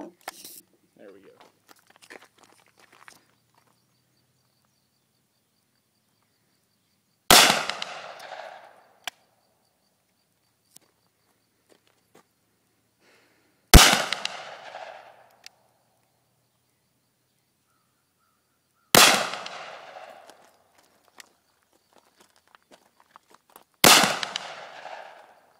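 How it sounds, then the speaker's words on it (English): Four loud gunshots on an outdoor shooting range, aimed at targets and spaced several seconds apart, each a sharp crack with a brief decaying echo, with quiet gaps and faint handling noises between shots. "Shooting at the left target, I guess. Yeah, shoot at the left."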